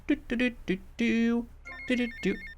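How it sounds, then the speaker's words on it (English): Phone ringing in GTA Vice City on the game's Starfish Island, as a call comes in: repeated electronic ring bursts in a steady pulsing rhythm, fairly loud and close, with no talk over it. "after you get out, you get a phone call"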